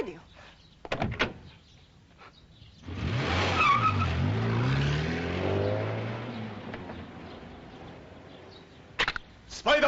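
The Spider Machine GP-7 car from a Japanese Spider-Man TV series sweeps through in a loud engine surge and tyre skid lasting several seconds, bracketed by brief sharp clicks and thuds.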